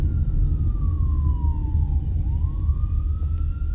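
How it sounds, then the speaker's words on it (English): A fire truck siren wails as the truck crosses an intersection in Las Vegas, its tone sweeping down and then rising again over steady, loud traffic rumble. "And a fire truck is crossing right in front of us here."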